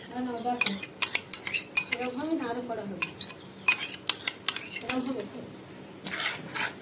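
Eggplant stirred with sour yogurt, turmeric and chili in a pan, a spoon scraping and clinking against the metal pan in irregular close strokes, with a voice speaking intermittently over it.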